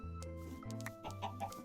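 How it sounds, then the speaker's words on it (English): Chickens in a Minecraft-style video game cluck in a quick series of short calls over a steady low tonal background, fairly faint. "And of course it didn't take too long before there were loads of chickens in here."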